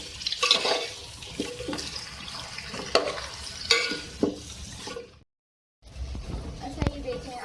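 Potatoes, beans and tomatoes sizzle in a pan while being stirred, with repeated scraping and clattering strokes over a soft frying hiss, broken by a brief silent gap.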